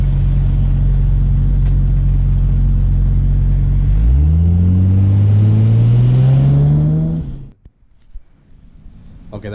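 A 1993 Toyota Supra with twin turbos holds a loud, steady engine drone, then revs up hard with rising pitch as it accelerates for a few seconds before the roar cuts off abruptly into near quiet.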